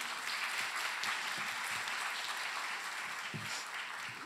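An audience at an international arts education forum applauds a speaker, a steady, dense wash of clapping that holds strong for several seconds with no voices over it.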